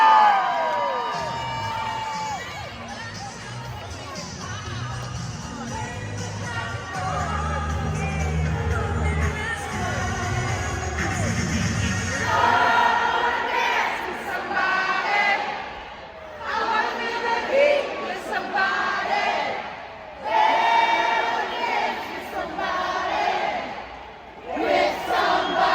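Fans on the first base and right field side of a baseball stadium sing together in a crowd sing-off at a Banana Ball game, Indianapolis Clowns vs Party Animals, a massed chorus of voices swelling and rising in loud bursts.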